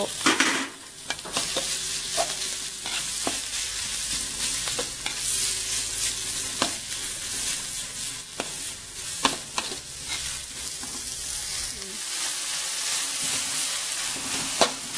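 Pork frying with pounded chili paste and shallots for a northern Thai paste, a loud steady sizzle with frequent scraping stir strokes throughout, close by and without speech.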